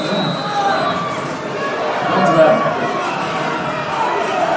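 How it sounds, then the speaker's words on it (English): High school football crowd cheering for Beaver Falls during a postseason Friday night game against KO, a broad, steady roar of the stands with a commentator talking over it. "Crowd getting hyped now for Beaver Falls."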